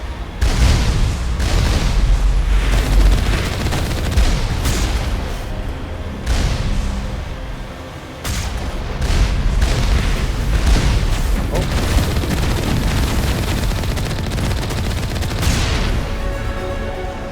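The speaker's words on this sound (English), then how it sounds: "Look at all the rockets." Heavy rocket explosions and booming impacts roll almost continuously through a Mass Effect Legendary Edition battle, loud and dense with overlapping blasts and gunfire.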